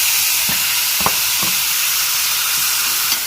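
Nethal anchovies sizzling in a pan with curry leaves, a steady bright frying hiss throughout with a few soft clicks of stirring or spattering, close and even, no talking.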